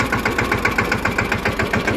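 A tractor engine chugs steadily while driving along a rough road, a loud close mid-pitched rumble with a fast regular knocking pulse and no pause.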